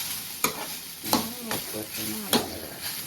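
Vegetable upperi stir-fried in a pan, with a steady sizzle and several sharp scraping strokes of a spoon against the pan, close and moderately loud, with a voice talking briefly in the background.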